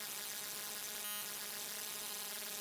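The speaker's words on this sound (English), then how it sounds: "So let's add some windowed white noise," Steady synthesized windowed white noise, a dense, even hiss across the whole range, holding constant at a moderate level with no talking.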